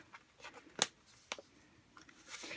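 Printable heat transfer vinyl being peeled off its backing, a few quiet crinkly crackles and one sharp tearing snap, faint and close.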